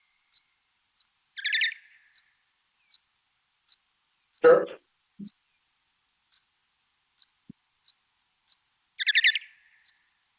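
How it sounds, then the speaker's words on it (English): Slowed-down echolocation calls of bats form a regular series of short, high, downward-sweeping chirps against silence, with a brief spoken word midway. "typically, echolocating bats, typical bats, most of the bats, except one, emit sounds like this."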